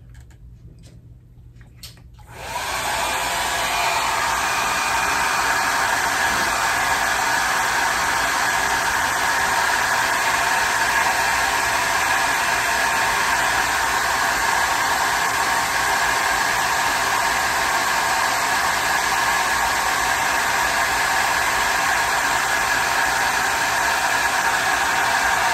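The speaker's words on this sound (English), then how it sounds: "I'm going to use my dryer, my blower, to dry it if I can" An electric blower switches on after a couple of seconds and then roars in a steady, loud, continuous whoosh with a high whine while drying painted artwork.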